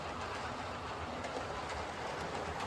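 A model railway train runs along the track of a model layout, a steady close rumble with faint rail clatter throughout and no talking.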